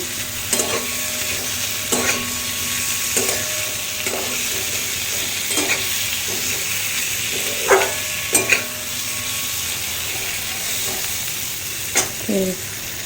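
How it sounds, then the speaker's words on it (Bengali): Spice masala frying in a pan over a medium-high flame for a creamy pointed gourd curry: a steady sizzle runs throughout, while a spoon scrapes and stirs in irregular knocks and clatters, close and fairly loud, with no talking. "এখন একটু বাড়িয়ে দিয়েছি, মিডিয়াম টু হাই করেছি, করে মশলাটা ভেজে নিচ্ছি"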